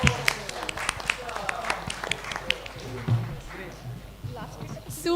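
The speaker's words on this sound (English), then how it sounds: "Can we have a great round of applause?" An event audience applauds after a mysterious guest is revealed. The clapping is scattered and uneven, with some sharp nearby claps, and voices and room noise run underneath.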